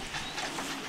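Young racing pigeons cooing inside a loft housing about 120 birds in three compartments, a soft continuous murmur of overlapping coos close by with no talk over it.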